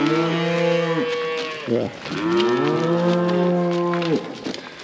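Cattle moo loudly in a pen holding cows and a bull, long drawn-out lowing calls overlapping one after another with barely a pause, close by, and someone briefly speaks.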